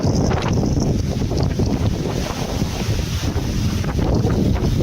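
Strong typhoon wind roars continuously and loudly, gusting and buffeting the microphone with broad, rushing noise that barely eases.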